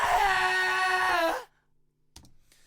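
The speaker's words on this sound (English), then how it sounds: "so the scream's in there as well" A recorded rock vocal scream in a song mix: one loud, sustained, strained cry lasting over a second, then a sudden cutoff into near silence with a few faint clicks.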